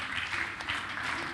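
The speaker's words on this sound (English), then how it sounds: "Please help me to give Dr. Abuba a round of applause." An audience at a Pan Africa senior secondary school agricultural debate applauds for Dr. Abuba, a short, even wash of clapping at moderate distance.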